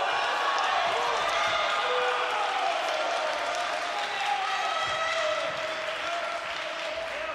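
Croatian staff cheer and applaud inside an otherwise empty arena during a bronze-medal bout at the European Karate Championships, a steady wash of clapping and shouts with commentary running over it.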